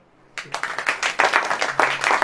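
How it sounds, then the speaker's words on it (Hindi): A congregation at a church sermon bursts into applause, with irregular clapping that starts abruptly, swells and carries on loudly to the end. "ताली बजाओ"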